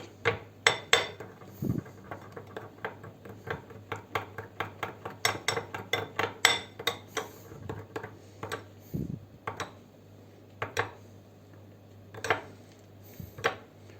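A spoon stirs lemon juice around a burnt cooking pot, giving repeated metallic scrapes and clinks in an irregular rhythm, close and fairly quiet, with a steady low hum underneath and no talking.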